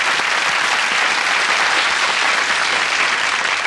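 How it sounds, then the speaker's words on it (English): Loud, dense applause from a studio audience for a talent show act, a continuous roar of many hands clapping close up with no break for several seconds. "Give him a round of applause."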